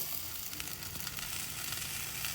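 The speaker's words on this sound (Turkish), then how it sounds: "Evet arkadaşlar. Kavruldu soğanımız." Onions sautéing in a pot as the base for potato soup, a dense, even close sizzle lasting the whole short stretch without pauses or voices.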